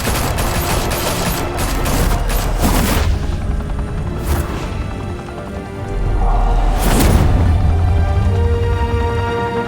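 Gunfire erupts in the Telltale Batman video game: dense, loud volleys of rapid shots and booms crackle in quick succession, then ease into a rumbling lull before another heavy burst swells back.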